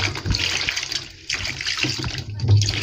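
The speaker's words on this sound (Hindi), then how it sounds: "इसमें हम डालेंगे पानी" Water pours and splashes over a fish head being cleaned, a continuous close gurgling rush with a few brief breaks and a louder splash near the end.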